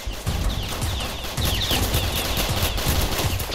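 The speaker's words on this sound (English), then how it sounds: "Stop shooting each other" Gunfire in a Roblox hood roleplay game set in the South Bronx: rapid, repeated shots in quick bursts, loud and close, with almost no talk.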